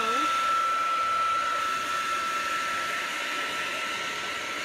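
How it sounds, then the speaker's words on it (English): Hair dryer on a low, cool setting drying a chalk transfer, a steady close whooshing blow with a faint high whine that holds evenly throughout. "let's dry it with cool air"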